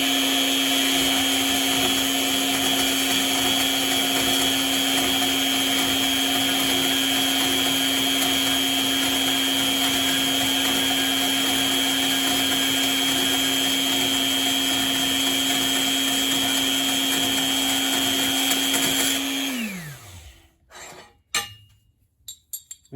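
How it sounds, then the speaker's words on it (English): A DeWalt D28770 deep-cut portable band saw cuts through a steel horseshoe with a loud, steady, high whine held close for about twenty seconds. It then winds down and stops, followed by a few clinks. "We're just going to take a horseshoe that I cut in half to make my hoof pick, and we'll run this through here on real time."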